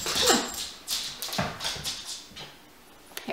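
Peppa, a dog who needs grooming, whimpers and whines in short high-pitched bursts, close by and fairly loud, with small yips mixed in.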